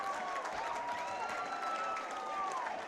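Stadium crowd cheering and applauding steadily after a long try-scoring run in an under-20 men's rugby match between Canada and the USA, a continuous roar of claps and shouts.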